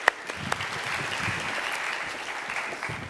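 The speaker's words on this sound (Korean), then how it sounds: "하나님께 영광의 박수 함께 올리겠습니다" Church congregation at a young adults' worship service applauding together, a steady crowd of clapping hands with a few sharper claps standing out near and far.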